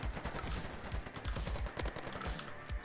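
Rapid bursts of gunfire from the video game Polygon crackle close and loud, a dense stream of repeated shots with brief gaps, no talking.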